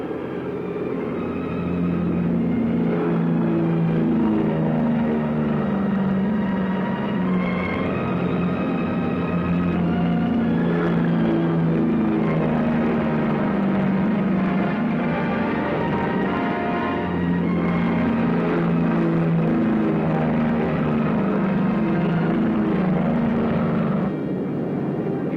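WWII warplanes take off at full throttle one after another, about fifteen seconds apart, making a loud sustained engine roar that swells and eases as each aircraft passes, with no speech heard.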